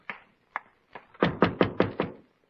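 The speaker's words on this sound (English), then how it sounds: "Who is knocking?" Knocking on a door, three slower separate raps followed by a quick run of five firm knocks, close and fairly loud with no voices over it.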